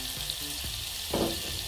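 Margarine melting in hot oil in a pan for caramel popcorn, a short stretch of steady close sizzling with a slightly louder crackle toward the end.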